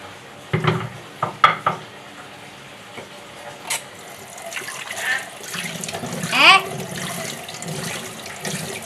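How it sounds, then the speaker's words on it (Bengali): Tap water running into a sink while dishes are washed, with scattered clinks of plates and pots at first, then a steady moderate flow and faint splashing; little talk. "পানি ছাড়তে হবে"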